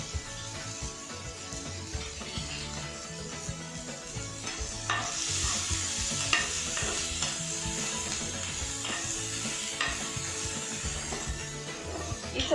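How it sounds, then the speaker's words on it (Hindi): Grated chilies lightly frying in a pan for aloo paratha filling, a soft steady sizzle with occasional stirring scrapes, close and fairly quiet. "फिर ग्रेटेड चिलीज, डाल के उसको हल्का फ्राई करेंगे।"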